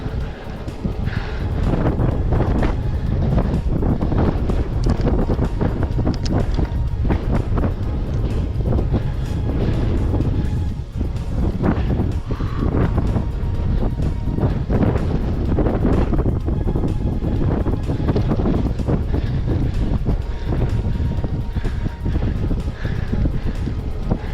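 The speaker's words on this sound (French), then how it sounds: "Le vent, c'est chiant." Strong wind buffets the microphone of a cyclist riding a Specialized Roubaix SL2 on a warm day, a loud, continuous rumbling roar that fills the whole stretch with no voices.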